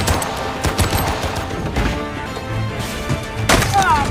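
Rapid machine gun fire from a tank-mounted gun during a film battle, with dense overlapping bursts of shots, crashes and impacts amid loud battle noise and some voices.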